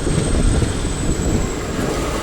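Passenger train on an Indian railway journey from Kochi to Coimbatore, a steady low rumble from inside the carriage with no clear voices over it.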